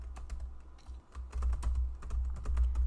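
Typing on a computer keyboard while writing Python code, a steady run of close, crisp key clicks with uneven rhythm and no talk.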